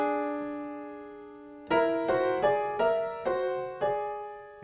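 A held piano tone gives way to a series of augmented fourth (tritone) dyads struck together, five or so in an even rhythm, each decaying before the next, close and alone with no voices.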